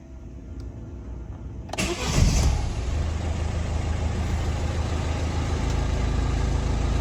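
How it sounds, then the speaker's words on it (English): A 2017 Peugeot 308 1.6 HDi diesel engine cranks and fires after an oil service, then settles into a steady, close idle. "So run the oil, run the engine for a few minutes, get the oil running through"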